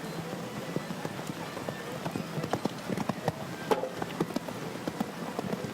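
Hooves of Numero Uno Nelly, an eight-year-old warmblood mare, at a show jumping event at Takapoto Estate, giving a steady distant clip-clop of footfalls under a faint noisy background.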